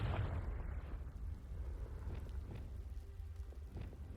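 A Confringo fire spell blasts in Hogwarts Legacy, a loud, broad explosive rumble that opens the moment and then settles into a crackling, roaring low tail with a few small pops trailing behind, no voices over it.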